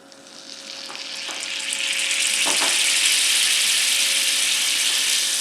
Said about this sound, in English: Gonna melt that in the olive oil.